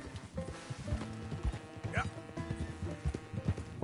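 Horse hooves clip-clop steadily on a trail while riding in Red Dead Redemption 2, a quick regular rhythm under game music and a talking voice.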